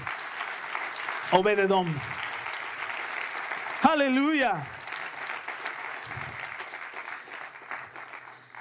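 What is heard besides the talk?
audience applause in church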